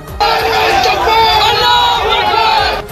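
Crowd shouting slogans against police during street unrest in Haldwani, a dense, loud, continuous roar of many voices held for several seconds.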